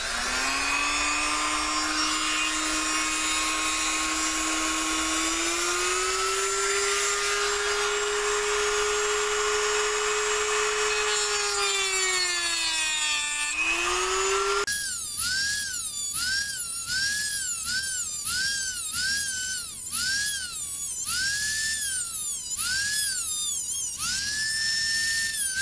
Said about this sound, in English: Then I just take my generic Dremel tool here and cut some little grooves.